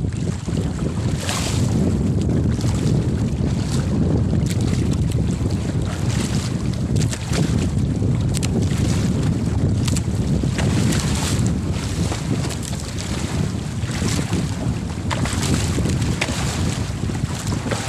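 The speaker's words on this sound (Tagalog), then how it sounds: "Lalakas na ng hangin" Strong wind roars over the microphone aboard a small fishing boat at sea off the Philippines, a steady loud rush with water slapping the hull throughout and no talk.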